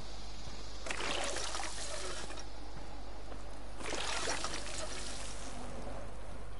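A water fountain in Fallout 76 pours and trickles in two strong bursts over a constant low hum, with no talking.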